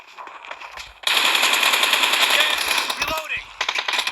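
Rapid automatic gunfire rattles in a video game arena match as a long, loud burst. Brief, sparser shots come before and after it, and players talk over the action.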